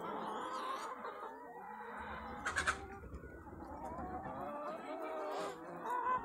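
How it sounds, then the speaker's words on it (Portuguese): Hens cluck and murmur continuously in their paddock on an egg-producing farm, a busy layered chatter of many birds at moderate distance, with a few sharper calls rising above the flock. "Para cima aqui é das galinhas, tá? É o piquete das galinhas."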